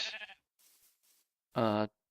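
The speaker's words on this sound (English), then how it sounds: "Now, as I said, I have these sheep." A single sheep in a Minecraft-style survival game lets out one clear, loud bleat after faint ambient noise and a brief trailing sound.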